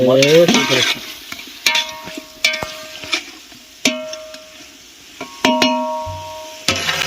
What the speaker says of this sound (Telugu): తర్వాత ఇప్పుడు గలబెట్టుకుందాం, అంతే గిలబెట్టుకుందాం